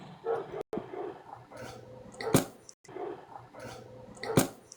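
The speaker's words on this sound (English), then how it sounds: "What are you barking at?" A dog barks outside, a few muffled, moderately distant woofs and yips in repeated bursts over low background noise.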